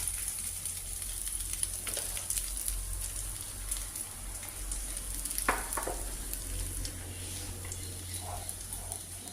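Cashews, raisins and almonds fry in ghee with a soft, continuous crackling sizzle, fairly quiet, with a couple of brief clinks and stirs partway through.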